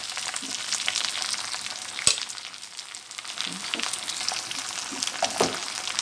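A paste of green chilli, ginger and coriander fries in an eggplant curry, making a continuous crackling sizzle with soft stirring scrapes and one sharp clink, with no one talking.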